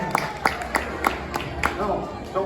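A small audience claps in short, evenly spaced bursts of sharp hand claps, fairly close, over a low room murmur.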